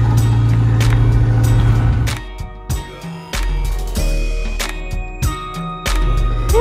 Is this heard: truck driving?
yes